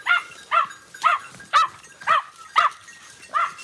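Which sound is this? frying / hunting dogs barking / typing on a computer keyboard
hunting dogs barking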